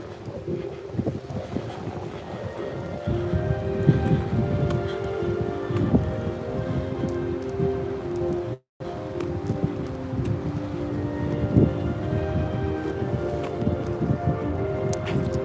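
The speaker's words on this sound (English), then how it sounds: "so it doesn't matter how windy it gets" Wind blows steadily at a waterfront, buffeting the microphone in a continuous low rumble with faint water and boat sounds beneath, broken by one brief dropout midway.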